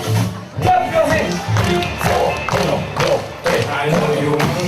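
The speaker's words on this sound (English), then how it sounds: "Clap your hands!" Brisk walking club group clapping hands in time during a marching warm-up, rhythmic claps and thumps over music and a voice calling out, crowd noise underneath.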